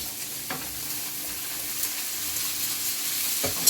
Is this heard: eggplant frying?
yes